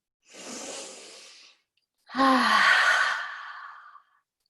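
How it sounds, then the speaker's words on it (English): A long inhaled breath followed by a slow, audible exhale, two close breathing sounds like a deep sigh with a short pause between them. "Let's just all take a deep breath now."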